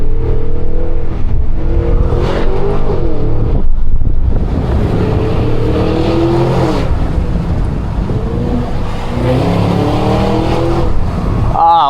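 A Cadillac Escalade V engine rumbles and swells through open windows during a drive, its deep tone rising and falling with the throttle over constant road and wind noise.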